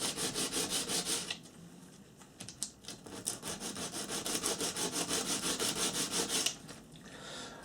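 Wood shaped by hand to taper the sides of a piece fitting inside a hopper, heard as a steady run of rhythmic rasping strokes, close and alone, with a brief pause partway through.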